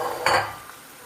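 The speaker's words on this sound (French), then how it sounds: "Mélangez bien le tout." Quartered plums, caramelized onions and spices stirred in a cooking pot, one brief close scraping swirl of a spoon through the thick mixture, with a faint clink afterward.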